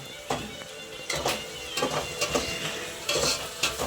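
Biryani ingredients, onions among them, frying in a pan, with steady sizzling crackle broken by clinks and scrapes of a utensil stirring against the metal, close and moderately loud with no talk.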